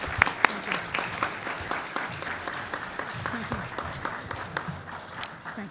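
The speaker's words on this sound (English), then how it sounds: "would you please join me in giving these candidates a round of applause for their participation?" A forum audience for Texas House District 102 candidates claps, a steady round of applause lasting several seconds with scattered louder claps, while voices murmur underneath.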